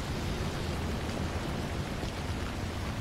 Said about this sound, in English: The rain sounds in this game make me sleepy.